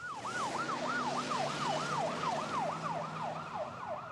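An ambulance siren wails in a fast, regular up-and-down sweep that repeats steadily without a break, over a faint low road rumble.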